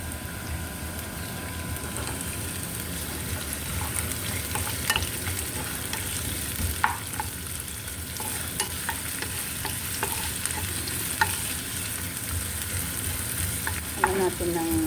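Onions and garlic fry in a hot pan and get stirred, giving a steady sizzle with scattered scraping clicks from the spoon, close and continuous for the whole stretch with no talking.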